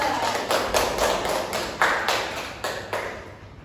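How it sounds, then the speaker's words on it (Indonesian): Students in a classroom clap for a group of classmates, a short burst of scattered handclaps with a few louder accents, close and fairly loud. "Tepuk tangan untuk kelompok 2."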